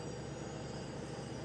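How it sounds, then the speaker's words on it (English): A Norfolk Southern maintenance-of-way train rolls past on a rail cam, giving a steady, dense rumble of wheels and cars that stays constant and fairly distant, with no voices. "NS maintenance away train going by there"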